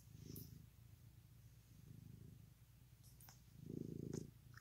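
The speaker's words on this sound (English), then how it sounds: "My goodness, she's purring." Soft, low rumbling purr from a cat close by, rising and falling in gentle waves, with a few faint clicks near the end.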